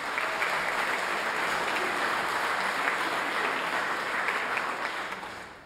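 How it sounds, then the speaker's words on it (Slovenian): Steady applause from a choir concert audience honouring a composer, an even wash of clapping held for several seconds at moderate level before easing off at the end. "En aplavz torej tudi za njega."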